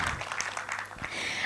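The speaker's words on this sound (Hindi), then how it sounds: "ज़रा तालियां हो जाए राजेश भाऊ के लिए." An audience at a song launch applauds a co-producer, dense clapping throughout a short burst.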